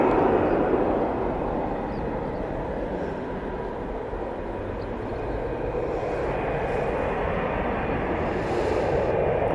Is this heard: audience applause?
no